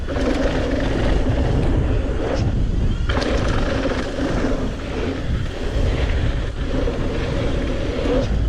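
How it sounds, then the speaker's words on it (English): Strong wind gusts roar loudly and continuously against the microphone, a heavy rumbling rush that swells and briefly eases in waves, with no voices. "Very windy."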